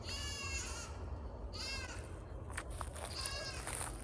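A goat screams in repeated harsh bleats outdoors in a North Idaho garden at sundown, three loud drawn-out cries spaced over a few seconds against steady low background noise.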